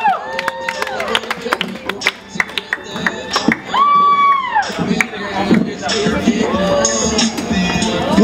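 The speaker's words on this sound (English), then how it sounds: "Give a round of applause for Hunter Larson." Clapping and cheering from a student crowd in the Tropicana Gardens residence hall as stand-up comedian Hunter Larson is welcomed to open mic night, with loud whoops and whistles rising over steady applause and chatter throughout.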